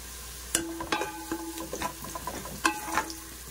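Onions fry in a pan for veg biryani, a low sizzle punctuated by several sharp scrapes and clinks of stirring, close and without talk.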